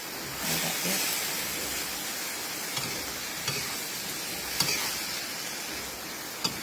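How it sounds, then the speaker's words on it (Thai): Lotus stems are stir-fried in a pan with no water added, a steady soft sizzle and hiss with a few light clacks of a spatula against the pan, fairly quiet throughout. "เราก็ผัดให้สายบัวยุบนิดนึงก็ใช้ได้แล้วนะเพื่อน ๆ"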